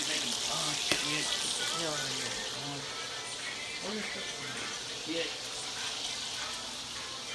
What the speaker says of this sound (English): I'm making bacon.